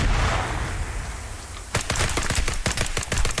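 Frag grenades going off in the Arma 3 military sim: a dense roar of blast noise fades out, then a rapid burst of sharp cracks and bangs follows like close gunfire, loud and without talk.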